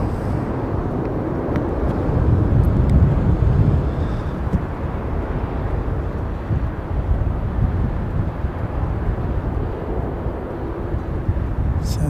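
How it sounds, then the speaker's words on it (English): A Qantas airliner passes overhead near Christchurch as a broad, low roar that swells slightly then holds, mixed with gusty wind buffeting the microphone. "So that was Qantas over the top"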